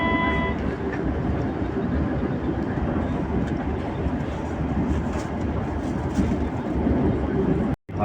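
A Majapahit passenger train runs along the rails with a steady, loud rumble and continuous rolling noise heard from inside the carriage, holding even until a sudden cutoff at the very end.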